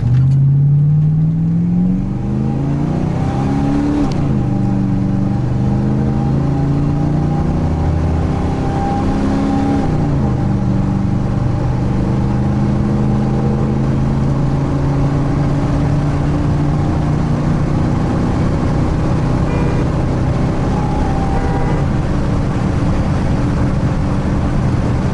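Ford F250 with a 460 V8 and twin 61mm turbos pulling hard through the gears, engine tone climbing steadily with clear shift dips, heard loud and continuous from inside the truck.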